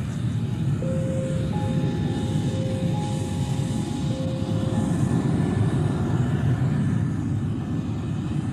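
Steady roar of an airplane in flight, used as a sound effect in a radio horror drama about a trip from Bandung to Bali, a continuous even drone with faint tonal hums running throughout.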